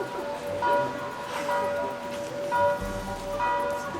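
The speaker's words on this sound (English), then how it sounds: "church bells going" Church bells ring in slow repeated strokes at a distance, over a steady urban background hum with trams.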